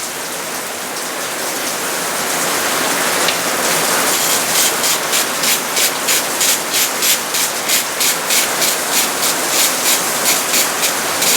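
Steady, loud rain hisses down during a rainstorm at the outdoor teardown of a 2004 BMW 325xi engine. The hiss builds in the first seconds and then holds as a dense wash, with a faint pulsing texture later on and no voices.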